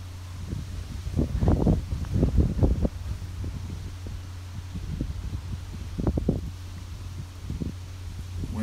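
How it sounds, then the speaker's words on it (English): Wind buffets a camera on a golf course, producing low rumbling gusts that swell in bursts against a steady hum, loud and close to the microphone. "Wind shaking the camera."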